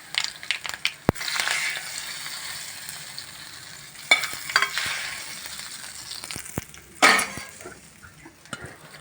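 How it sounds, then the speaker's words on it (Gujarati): Hot tempering is poured and spread over homemade khandvi, giving short bursts of sizzle mixed with scraping and soft clatter of a spoon, quieter between the bursts. "આ ઉપરથી નાખી દેવાનું વઘાર."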